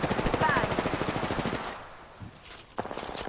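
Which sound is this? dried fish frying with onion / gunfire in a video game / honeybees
gunfire in a video game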